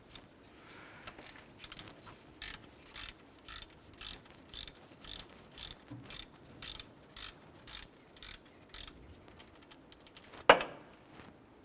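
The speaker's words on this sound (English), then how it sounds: "Using a 14mm socket and ratchet, we're going to go ahead and loosen the upper pivot bolt on our alternator" A ratchet with a 14mm socket loosens the upper alternator pivot bolt on a 2001-2005 Honda Civic. A steady series of short, evenly spaced clicking bursts runs nearby, ending in one sharper knock.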